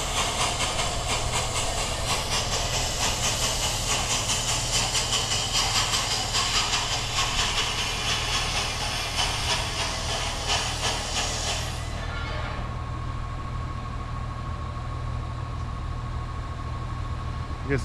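A Durango and Silverton steam locomotive in Colorado hisses loudly with a steady broad rush of escaping steam for about twelve seconds, then cuts off abruptly, leaving a quieter low mechanical hum and a faint tone.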